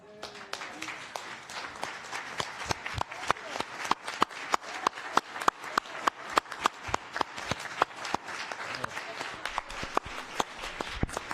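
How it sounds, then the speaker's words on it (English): Standing applause for a panel at an economic summit in Seattle, heard as a scattered run of distinct individual claps spread evenly over the stretch and moderately close, with faint voices behind. "now, I want your standing applause"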